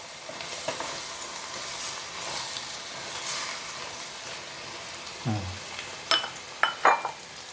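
Squid stir-fries with spring onions in a hot pan, giving a steady close sizzle with a few scraping knocks of a utensil against the pan near the end.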